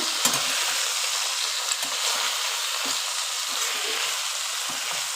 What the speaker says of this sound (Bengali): এবার কলমি শাক দিয়ে আমি ভালো করে এই আলু কুমড়োর সাথে এবার ভালো করে নাড়াচাড়া করে নেব